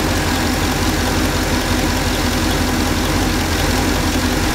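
A C6 Corvette engine with a wobbling crank pulley runs at idle, heard loud and close as a dense, continuous rumble with a faint rhythmic knock and no voices.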